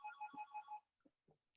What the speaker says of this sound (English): Bell is ringing, whatever.